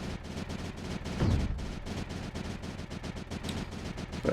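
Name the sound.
cannon firing in the video game Creeper World 4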